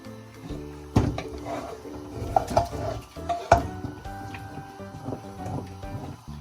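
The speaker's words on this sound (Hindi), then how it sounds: "अब हम इसको दालों में मिक्स कर देंगे।" Shredded meat stirred into cooked lentils for haleem, heard as thick wet mixing with knocks of a spoon against the pot and a low background hum, close and without talk.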